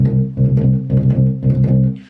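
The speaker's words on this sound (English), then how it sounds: "this has this incredible synth bass part in it which sounds like this" Synth bass line from a song, played as a short run of rhythmic, pulsing low notes in a steady pattern, close and clear with nothing else over it.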